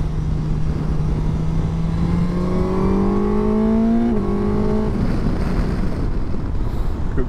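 Suzuki GSX-S1000 GX motorcycle accelerating hard with a quick shifter: a rising engine note climbing through several rapid upshifts, each with a short dip in pitch, under steady wind rush at close range.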